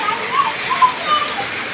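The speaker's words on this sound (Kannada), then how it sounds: "ಮಳಿನೇ ಹತ್ತಿ ಬಿಟ್ಟೈತ್ರಿ ಪೂರ್ತಿ" Steady rain falls continuously, a soft, even hiss of drops with no pauses, heard close and at moderate level.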